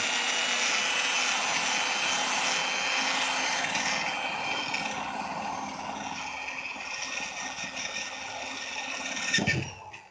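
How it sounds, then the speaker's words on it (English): A power drill bores a hole in the body of a 1998 Eclipse GS to fit an aftermarket spoiler, a continuous whining buzz holding steady for several seconds before a brief louder scrape near the end. "keep drilling."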